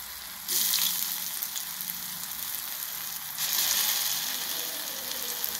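Coriander vadi, a crisp Maharashtrian kothimbir vadi, shallow-fries in hot oil with a steady, close crackling sizzle that swells louder partway through, and no voices.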